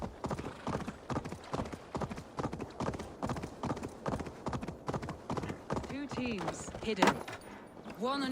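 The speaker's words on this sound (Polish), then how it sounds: "Koń z nami jedzie." A horse's hooves clip-clop at a steady walking rhythm in the video game Assassin's Creed Valhalla, clear and close, with voices joining toward the end.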